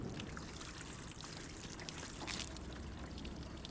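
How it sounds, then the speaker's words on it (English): Water is poured over car paint coated with ceramic spray sealant, a soft, steady splashing and trickling as it runs off the panel, close and fairly quiet. "Time to pour some water on and see how cleanly they all run off."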